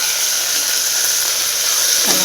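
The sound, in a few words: frying fenugreek and coriander leaves in a pan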